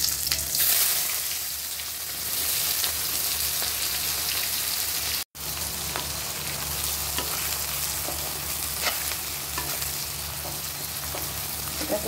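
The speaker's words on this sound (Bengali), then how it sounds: "আমার তেল গরম হয়ে গেছে, এখানে আমি এখন পেঁয়াজ কুচিটা দিয়ে দিব আগে" Chopped onion drops into hot mustard oil in a pan, setting off a steady, crackling sizzle that carries on throughout, with one momentary break partway through and no talking.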